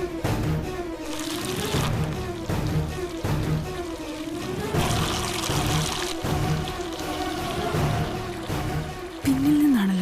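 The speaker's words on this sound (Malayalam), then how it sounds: "അയ്യോ, ടാപ്പ് തുറന്നു കിടക്കാണല്ലോ." Water runs from an open tap in a steady, continuous stream at close range, with a tonal hum and soft background sounds in the room.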